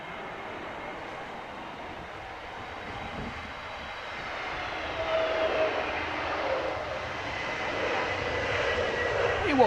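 Aircraft coming in to land in strong gusty wind, a broad engine roar with a thin whine that swells louder toward the end, heard alone without talk.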